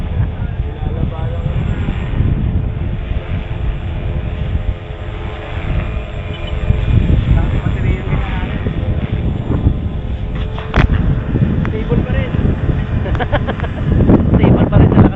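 Strong gusty wind buffets the microphone with heavy low rumble while a flybarred RC helicopter whines faintly through it on a very windy day, with people talking intermittently.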